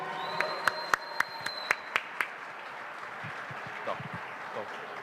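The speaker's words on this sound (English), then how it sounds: "Can we get another round of applause" A round of audience applause at a Boston Lunar New Year celebration after a lion dance performance, with sharp, evenly spaced claps up front, fading into scattered crowd noise and murmuring.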